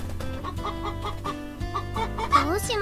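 A chicken wandering around a room in the video game Summer Pockets clucks in a run of short rhythmic notes, then rises into a louder squawk near the end, clear and close over a quiet game background.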